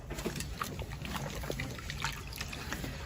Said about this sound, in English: Then we scrub her with a nice clean rag and some soap and water.